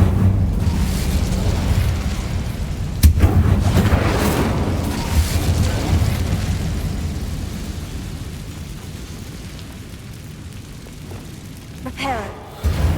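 An Incendio fire spell in Hogwarts Legacy erupts with a roaring whoosh of flame and deep booms, loud and sustained before gradually fading, with a sharp burst near the end.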